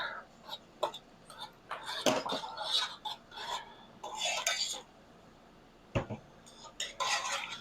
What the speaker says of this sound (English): And then you just give it a stir